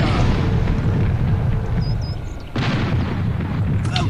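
Cannon fire in the multiplayer airship video game Air Buccaneers, a heavy sustained booming roar that cuts off, then a second blast follows, loud and close.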